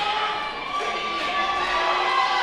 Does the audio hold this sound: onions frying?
no